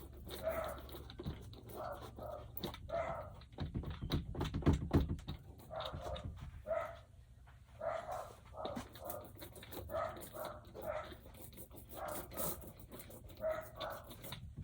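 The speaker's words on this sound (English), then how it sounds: "the dogs are barking" Dogs bark repeatedly in short bursts, fairly close, with a brief clatter partway through and no talking.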